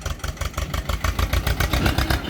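A farm tractor's engine chugs close by in a steady, rhythmic low throb, idling with a slight rise and fall and no voices over it.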